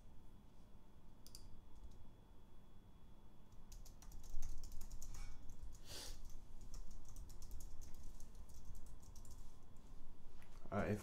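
Rapid clicking keystrokes on a computer keyboard while code is typed, fairly close and continuous, with a few louder clacks and soft background noise.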